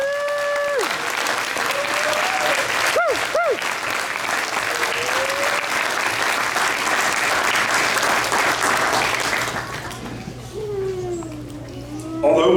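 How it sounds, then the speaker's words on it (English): Faculty members at a registered nursing pinning ceremony in Madera, California, are greeted with sustained crowd applause, with a few voices breaking through. The clapping thins toward the end. "they deserve a roaring round of applause"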